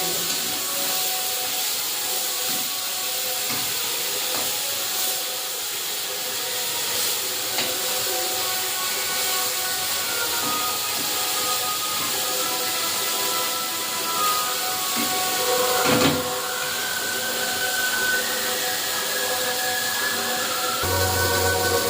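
Ridge gourd with onion and chilli paste stir-fries in a pan, producing a continuous close hiss of frying with rubbing, scraping strokes of a spatula and an occasional louder knock against the pan.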